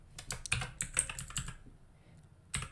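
Code being typed on a computer keyboard, a quick close run of clicky keystrokes, then a pause and one more short burst of taps.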